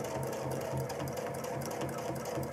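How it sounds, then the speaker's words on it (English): A sewing machine runs steadily during free motion quilting of clamshells, its rapid even stitching rattle close and continuous, with the fabric and template being moved under the hopping foot. "And then we sew again, holding the template right against that hopping foot and moving the fabric and the template."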